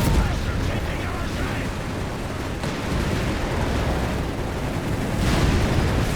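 Tanks blow up in a Company of Heroes 3 battle, with heavy booms and crackling blasts rolling continuously under a commentator's voice, with sharper bursts at the start and near the end.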